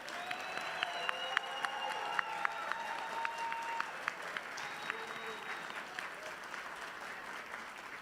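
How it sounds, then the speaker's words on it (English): An audience applauds graduates of the Owens Community College School of Science, Technology, Engineering and Mathematics at their ceremony. Steady, dense clapping fills the hall for the full length, with sharper individual claps and faint high tones rising above the roar. "Please let's give them another well-deserved round of applause."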